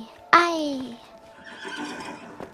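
A single sharp, close horse whinny rings out and falls away in pitch in the video game A Way Out. Quieter rustling and a voice follow afterward.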